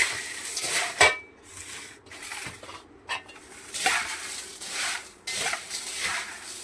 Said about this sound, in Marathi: असं असं मिक्स थोडं थोडं टाकायचं आणि हलवायचं आपल्याला.